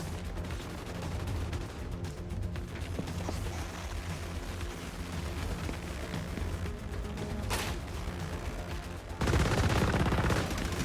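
Gunfire rattles in a first-person shooter video game, with steady bursts of shots over a busy game soundscape and a louder, denser blast of noise near the end.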